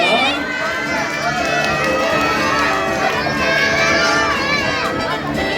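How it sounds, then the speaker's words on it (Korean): Children in a crowd shout and cheer together with clapping, a loud continuous noisy mix of young voices throughout, urging on classmates during a performance event. "여러분들 박수와 함성이 있어야 됩니다"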